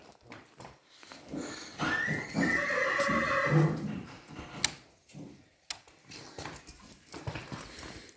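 A mare whinnies loudly nearby, a long shaky neigh, amid faint shuffling and a few knocks, with no talking.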